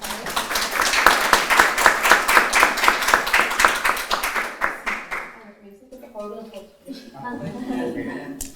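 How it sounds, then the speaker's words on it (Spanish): Audience applause for three speakers at a mining closure forum in Peru, steady rhythmic clapping for several seconds that fades out before a speaker's voice takes over. "les pido un aplauso para los tres ponentes"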